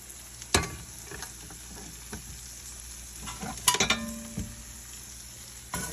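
Tomato paste and flour are stirred as they fry in a pan, a low sizzle under scraping spoon strokes and a few sharp clinks of metal against the pan, nearby and without speech.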